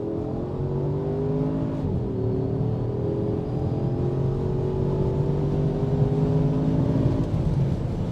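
A 2014 Porsche Cayenne Turbo S accelerates on a farm road, its engine droning loudly from inside the cabin with rising pitch through gear changes, a steady roar with no talk.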